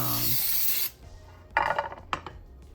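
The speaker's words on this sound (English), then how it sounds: "I'm spraying the sides with that because I'm using a stick of butter" A loud, steady hiss of cooking spray sprayed onto the sides of a cake pan, lasting almost a second, followed by softer scraping and rustling sounds close by.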